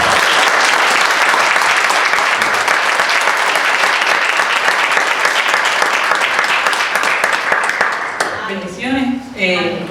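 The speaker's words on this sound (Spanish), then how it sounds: "Así que denle un aplauso al Señor." A church congregation breaks into loud, sustained applause that fills the room, then fades as a voice begins speaking near the end.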